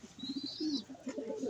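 Soft, low pigeon coos repeat in short rounded pulses, close and fairly quiet, with a faint higher chirp or whistle above them.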